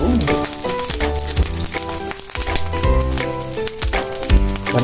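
Sliced bread dipped in egg crackles in a pan of hot cooking oil, a loud steady sizzle with popping spatters close up, layered under background music with no talking.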